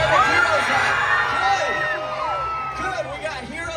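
A theme park show audience screams and cheers, with many children's and adults' voices whooping together in a loud, sustained roar that rises and falls.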